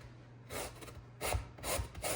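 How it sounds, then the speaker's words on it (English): A lemon is rubbed against a zester in a few quiet scraping strokes, short rasping bursts over a low steady background hum, with no talking. "I'm gonna try out this one to zest it"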